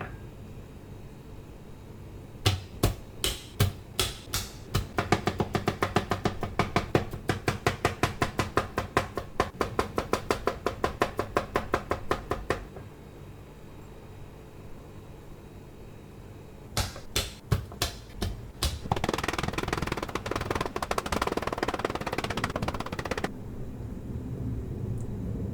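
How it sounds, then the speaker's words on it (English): Garlic crushed and minced with a knife on a cutting board: a long run of rapid, close chopping taps, a pause, then another quick burst of chopping before a softer scraping stretch. "We'll now crush and mince some garlic."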